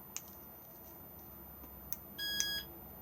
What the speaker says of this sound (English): armed with 1 beep